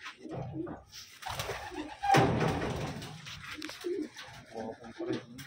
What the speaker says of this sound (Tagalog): Nagkadong ang kalapati oh.